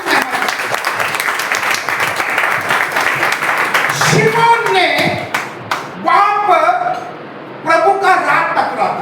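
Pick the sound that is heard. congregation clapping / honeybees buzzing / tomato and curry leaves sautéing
congregation clapping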